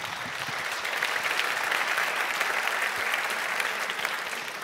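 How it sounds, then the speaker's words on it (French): Sustained audience applause fills a hall at Radio France's 2025-2026 season-opening evening: a dense, even wash of many hands clapping, steady and fairly loud for several seconds, with no voices over it. "Je ne prends pas vos applaudissements personnellement"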